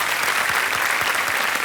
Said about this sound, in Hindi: तालियां बज जाए उनके लिए।